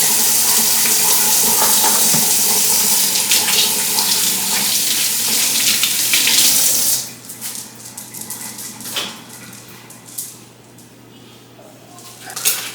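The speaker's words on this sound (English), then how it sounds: "So now we will be washing our hands." Tap water runs loudly into a sink for several seconds, then shuts off, leaving quieter splashes and handling noises.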